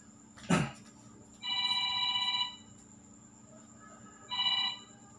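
A telephone rings with two separate electronic trilling bursts, the first about a second long and the second shorter, coming after a brief knock in an otherwise quiet room.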